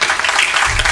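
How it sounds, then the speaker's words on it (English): Audience applause at a talk, a dense wash of clapping that fills the whole short stretch at steady loudness. "Everybody give an applause for the,"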